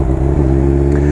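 BMW S1000 RR motorcycle riding at speed on an open road, a loud close, steady engine drone with strong low harmonics and a brief rise in pitch, alone without voices.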